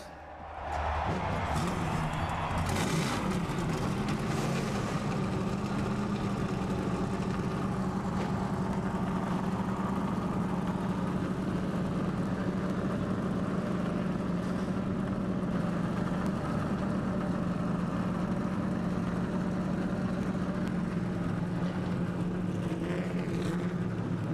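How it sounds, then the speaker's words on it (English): A field of race cars fires up at the start of the Budweiser Shootout. Engines catch in a burst, then hold a loud, dense, rumbling idle with a steady droning tone that lasts throughout. "Gentlemen, start your engines."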